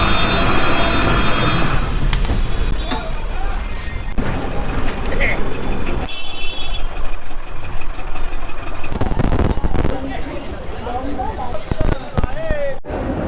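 A Volvo AC bus idles and moves through dense Esplanade traffic in Kolkata, a loud continuous rumble of engines and street noise with people talking over it.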